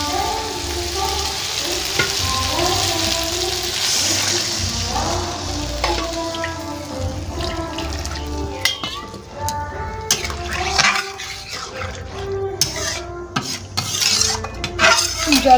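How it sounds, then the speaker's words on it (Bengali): Water is poured into a cooking pan of fish curry where oil has separated, followed by lively sizzling, bubbling and metal spoon stirring and scraping against the pan, close and busy throughout. "আমি একটু জল দিয়ে দেবো।"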